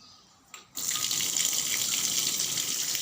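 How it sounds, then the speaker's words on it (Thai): After a short quiet moment with a faint clunk, a tap is opened for washing clothes and water gushes out in a steady, loud, hissing stream that continues unbroken, close by. "เปิดน้ำก่อนครับ ล้างผ้า"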